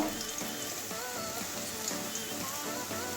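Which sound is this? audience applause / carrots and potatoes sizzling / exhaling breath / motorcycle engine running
carrots and potatoes sizzling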